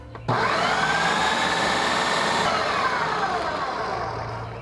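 A food processor switches on abruptly and spins pizza dough for a Chicago tavern-style thin crust, a loud, steady whirring motor whine with a slight pitch drift that holds for several seconds before easing off.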